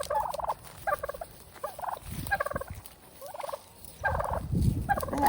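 A turkey gobbles repeatedly near its pen in a farmyard, with loud, rattling bursts coming in a steady series and close by, over low rustling and scuffling noise.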